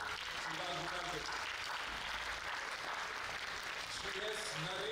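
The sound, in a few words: audience applause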